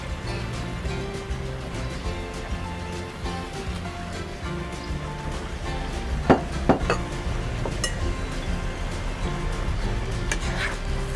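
Mushrooms stirred into kare-kare sauce in a pot: a continuous low simmering bubble under scattered clinks and scrapes of a spoon against the pot, with a short burst of louder knocks midway.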